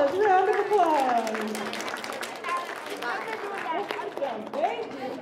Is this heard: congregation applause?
yes